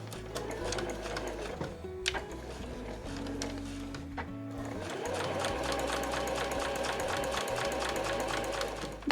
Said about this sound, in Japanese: そしたらこの待ち針からだいたい1センチずつ余分に縫います。